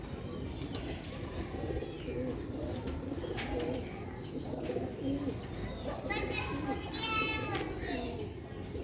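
Adult pigeons and young pigeon chicks coo and call from a loft in Sialkot, soft repeated coos and chirps over a busy background with people talking nearby.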